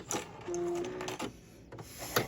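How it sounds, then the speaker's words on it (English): A sewing machine running straight seams on a fabric cosmetic pouch, giving a brief, quiet mechanical whir with light clicks, close and without speech. "I'm gonna sew, start in back stitching. I'm gonna sew these straight down."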